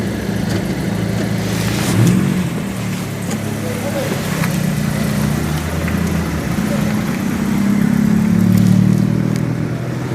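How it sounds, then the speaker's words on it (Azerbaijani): A Honda Civic Si on Skunk2 Pro ST coilovers is driven out of a workshop by a mechanic, its mid-pitched engine idling and rising gently through light revs, close by, with people talking over it. "Usta maşın çıxardır"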